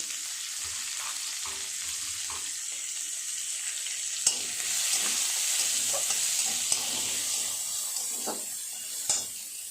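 Chopped onion and crushed garlic fry in hot oil, with a steady bright hiss of sizzling and a few sharp clicks of a utensil against the pan, no voices.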